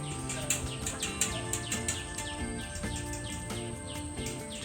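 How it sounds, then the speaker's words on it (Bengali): Many birds chirp and call together in a riverside jungle at Taki, making a dense, continuous layer of overlapping tweets and trills at moderate distance, with no voices. "প্রচুর পাখির আওয়াজ।"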